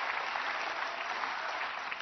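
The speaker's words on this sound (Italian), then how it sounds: "Sempre tanti applausi," Steady, dense studio audience applause at a televised political talk show, lasting the whole stretch at moderate level with no voice over it.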